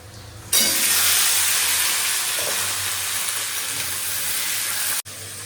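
Spices for tempering hit hot oil with a sudden loud sizzle that stays bright and steady, slowly easing in level before cutting off sharply near the end, with no talking over it.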